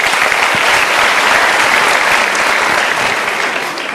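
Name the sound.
audience applause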